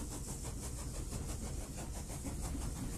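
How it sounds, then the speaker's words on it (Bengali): A loud train rolls along for a horror story, its wheels and cars giving a continuous rhythmic clatter that repeats evenly throughout, with no speech. "ট্রেন আবার হুইসেল দিয়ে চলতে শুরু করল"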